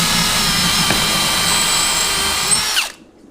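A power drill fitted with a 5.5 mm bit bores into timber, running as one loud, steady whine for about three seconds before it spins down and stops abruptly.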